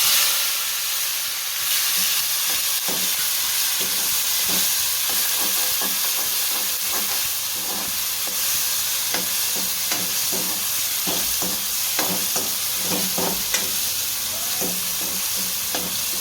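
Tomatoes sizzle in a pan while cooking masala bread, a steady frying hiss with repeated soft scraping and clinking as the mixture is stirred, close and continuous with no talking.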